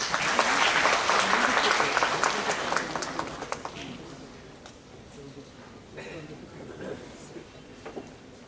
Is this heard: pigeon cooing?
no